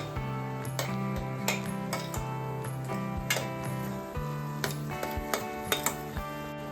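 Clinking and scraping of a spoon stirring crab curry masala in a pan, a steady run of light metallic taps and clicks recurring through the stretch with no voices.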